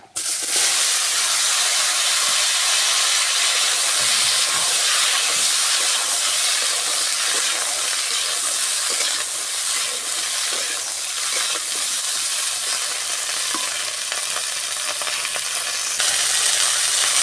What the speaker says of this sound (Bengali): দিয়ে দেবো 5 ফোড়ন, আলু আর সিমগুলো দিয়ে দেবো।